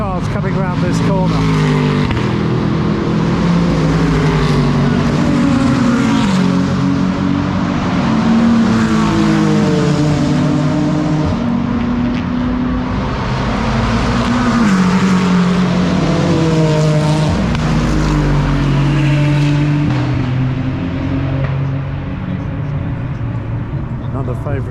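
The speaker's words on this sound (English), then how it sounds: "Okay, let's watch the cars coming around this corner." Race cars sweep around a corner at Brands Hatch circuit, loud engines rising and falling in pitch as they pass one after another, with a continuous roar heard from trackside.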